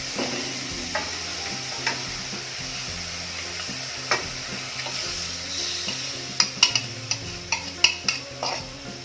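Thin coconut milk poured into a simmering pork and pineapple red curry in a pot, with steady stirring and bubbling, a low hum beneath and a few sharp utensil clinks near the end.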